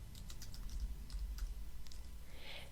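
Keys clatter on a computer keyboard as a font name is typed into a Photoshop font field, a quick run of light close clicks over faint room hum.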